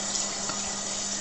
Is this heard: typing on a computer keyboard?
no